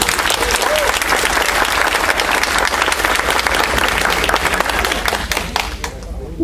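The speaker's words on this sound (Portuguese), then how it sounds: "Pode aplaudir, viu?" An audience at a certificate ceremony gives loud, dense, sustained applause that fills the room, with voices mixed in, then thins out near the end.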